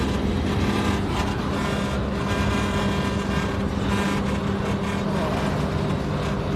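Engine noise inside a moving truck, a constant loud low rumble and drone with road hiss that stays steady throughout, heard from inside the cab with no clear talk.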